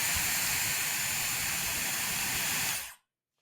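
A steady, loud blast of rushing air hisses continuously from a Dyson Airwrap hair styler, then cuts off abruptly near the end, leaving silence.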